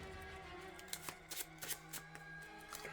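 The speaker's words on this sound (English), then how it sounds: "I always shuffle my discard pile." Discard pile of playing cards being shuffled at a table during a card game, soft quick riffles and taps in short bursts, close and quiet.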